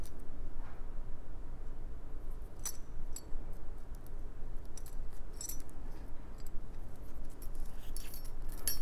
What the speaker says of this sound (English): we're gonna click it onto the chain directly